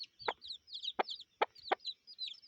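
Lemon-colored chickens in open-air breeding pens: a few soft, short clucks and knocks close by, layered under chirping birds in the background.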